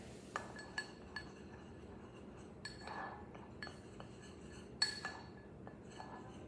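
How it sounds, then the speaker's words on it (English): A utensil clinks repeatedly against the sides of a mug as confetti mug cake batter is stirred, giving a series of light, uneven taps and scrapes close by, with no speech. "Next, I'm going to stir it."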